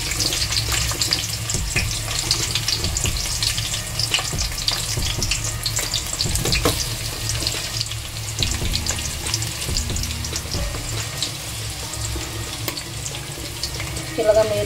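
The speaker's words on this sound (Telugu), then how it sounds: "ఆయిల్ పోసుకున్న తర్వాత మనం అందులోనే ముందుగా ఆనియన్స్ని బాగా బ్రౌన్ కలర్ వచ్చినంత వరకు మనం దీన్ని బాగా ఇచ్చేసుకోవాలండి" Onions browning in oil in a pot for biryani, a constant bubbling sizzle with frequent spoon scrapes and stirring knocks close to the listener.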